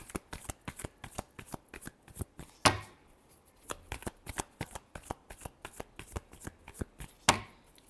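Tarot cards are shuffled close by in a rapid series of crisp flicks and snaps, with two louder riffle bursts along the way and brief soft pauses between the runs.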